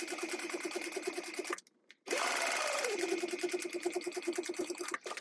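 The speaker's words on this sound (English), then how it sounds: "Don't stitch at the top or either straight sides, just the curve." A sewing machine stitches along the curve of a notepad cover pocket, its needle chattering in a fast steady hum, pausing briefly for about half a second before resuming at an even pace, close and clear.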